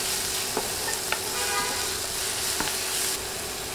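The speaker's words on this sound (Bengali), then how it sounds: "1 চা চামচ রসুন বাটা দিয়ে নেড়ে 30 সেকেন্ড ভেজে নিব" Garlic paste sizzles with fried onions in a pan, giving a steady, close frying hiss with a few light scrapes and taps from stirring.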